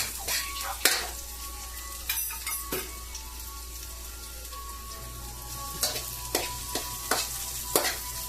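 Onions for garlic fried rice frying in a pan, a steady low sizzle with scattered stirring clinks and scrapes, close and moderate in level, no talking.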